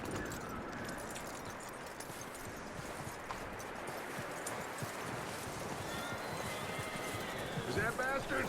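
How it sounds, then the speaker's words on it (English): A horse in Red Dead Redemption 2 whinnies and clops its hooves through a steady wash of game ambience, with a brief neigh near the end and voices speaking nearby. "That looks like a decent horse."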